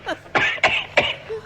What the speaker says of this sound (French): Pourquoi tu tousses?